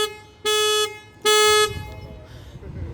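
Two loud, steady car horn honks from a 2018 Volkswagen Caddy's alarm, each about half a second, followed by quieter background noise.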